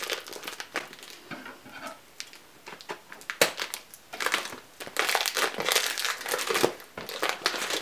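Crinkling and ripping as packing tape is pulled and torn off a heavily taped parcel, close-up in irregular bursts of crackles and sharp tears with no voices.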